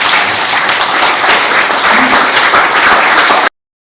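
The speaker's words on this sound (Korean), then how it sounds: "큰 박수로 맞아주시기 바랍니다." Audience at a Korean-American business friendship forum breaks into loud, sustained applause welcoming the ambassador to the podium, dense clapping filling the room before cutting off abruptly.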